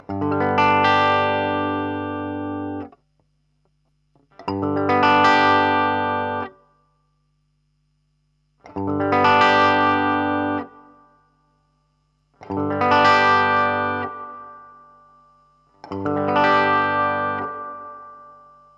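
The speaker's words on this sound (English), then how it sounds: "It's very definitely a hall type reverb as opposed to a spring reverb that I expect to find in this amp" Five separate distorted electric guitar chords ring through a Marshall DSL-1 combo amp, each sustained for a couple of seconds with a smooth, spacious digital hall reverb tail before silence.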